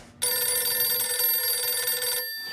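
A telephone rings loud and steady for an incoming call, one sustained electronic ring lasting about two seconds before cutting off abruptly, with no talking.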